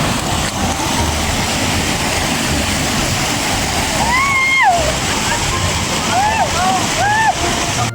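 Water sloshes and splashes steadily at an outdoor swimming spot in wide, clear, cold water where people are swimming. Birds chirp and whistle in the middle and end.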